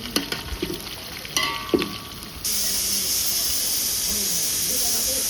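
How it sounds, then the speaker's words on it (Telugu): A pressure cooker lets out its steam in a loud, steady hiss that starts abruptly and holds, preceded by a few kitchen clatters and knocks while sambar cooks with drumsticks. "కుక్కరు ఆవిరి అంతా బయటికి వెళ్ళిపోవాలి"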